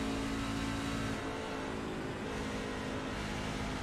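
A Truck Series race truck engine drones steadily and loudly throughout as the driver lifts off the throttle through turns 3 and 4, the roar holding a fairly even pitch with no talking.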